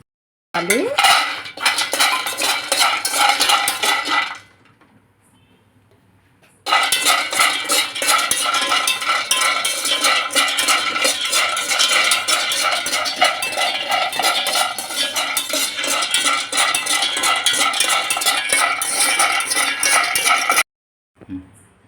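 Peanuts being roasted and stirred in a metal pan, a loud continuous rattling clatter of nuts and spoon against the pan that breaks off briefly near the start before resuming and running long, with no talk.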